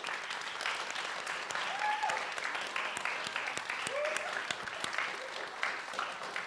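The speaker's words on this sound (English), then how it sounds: "So a round of applause to yourselves for being that community." Audience applause at a creative writing spring showcase, steady clapping from a modest crowd, a couple of short voices or whoops rising over it.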